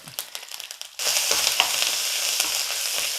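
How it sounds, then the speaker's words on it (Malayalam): Shallots, curry leaves and dried red chillies dropped into hot oil, quiet clinks first, then a sudden loud burst of sizzling that holds steady and close, no talking. "നമ്മുടെ ചെറിയുള്ളി മൂത്ത് വന്നിട്ടുണ്ട് അപ്പോൾ നമുക്ക് കറിവേപ്പില വറ്റൽമുളക്"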